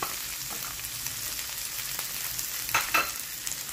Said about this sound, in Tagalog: pwede na natin i-add ang ating patatas at carrots